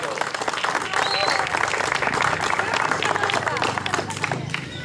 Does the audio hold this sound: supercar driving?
no